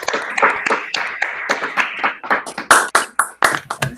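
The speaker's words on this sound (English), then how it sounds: "give an applause to Germà" Scattered clapping from a small audience at the close of a seminar, a few people clapping in distinct, fairly close claps.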